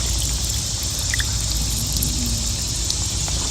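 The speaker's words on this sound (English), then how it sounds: "as you can see, it's running water too." Gentle running water trickles and splashes steadily from a hillside, with a bright hiss and faint drips, close by and without any talking.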